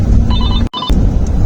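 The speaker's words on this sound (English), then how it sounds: "we got interrupted by a phone call" A telephone rings loudly with steady electronic tones, cut by a brief silent gap before the ringing resumes.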